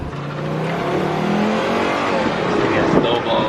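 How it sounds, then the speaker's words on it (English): Nissan GT-R engine revving with a loud, steady roar and rising tones, close and continuous throughout, with voices in the background. "It's a sick ass GTR."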